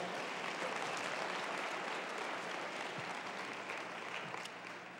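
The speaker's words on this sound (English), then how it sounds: "Give Jesus one more hand clap for all he's done." A congregation at a revival service claps steadily and densely for Jesus, a continuous wash of many hands that sounds somewhat distant and soft, easing slightly at the end.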